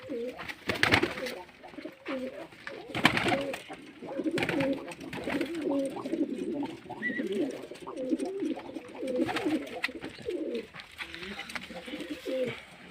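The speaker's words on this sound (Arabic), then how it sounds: "الطيور نزلت" Pigeons coo repeatedly inside a hot loft cage, their soft rolling calls close and continuous, with occasional clatter and a person talking at times over them.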